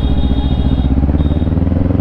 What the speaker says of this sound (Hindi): यहाँ पे 13 साल का बादशाह है एक्टिवा चला रहा है